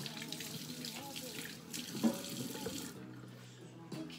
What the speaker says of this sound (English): So while I'm washing my hands